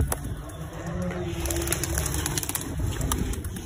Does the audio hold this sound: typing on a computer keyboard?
no